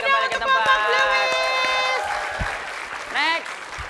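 A studio audience claps and cheers at a comedy show, a broad wash of applause under a loud voice talking over it.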